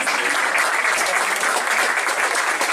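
Loud, dense applause from a crowd at a football stadium before a French Cup fourth-round match, steady continuous clapping with no break.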